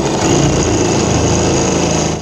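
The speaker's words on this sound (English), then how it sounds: "We got to drill a 7/16 hole back through the pilot hole that we drilled here" A power drill bores a 7/16 hole through a pilot hole for a seat bolt on a Polaris RZR, a loud, steady high-pitched whine held continuously and close.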